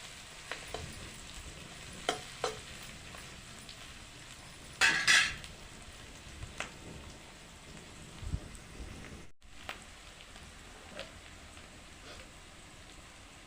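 Onions frying in oil while a spoon stirs them, a steady close crackling sizzle broken by scraping strokes and clinks against the pan, with one louder burst of spattering midway.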